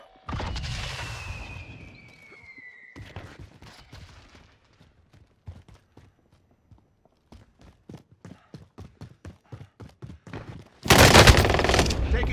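Gunfire in a first-person shooter, with scattered sharp shots and rapid irregular bursts that are mostly distant and quiet, ending in a loud heavy stretch of fire near the close, plus a whooshing sweep early on.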